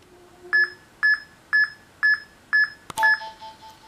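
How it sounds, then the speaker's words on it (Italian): Five evenly spaced electronic timing beeps for Pokémon HeartGold/SoulSilver RNG manipulation, about half a second apart, clear and alone, followed by a sharp click and a final longer tone. "ci saranno dei beep verso gli ultimi secondi che vi guideranno per aiutarvi a prendere il ritmo giusto"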